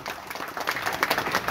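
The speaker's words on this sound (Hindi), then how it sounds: "निज पई गोटे जोरदार करताली मागि नउछु" An audience at a music and literature event claps together in brief, steady applause. The clapping is moderately loud and runs without any speech.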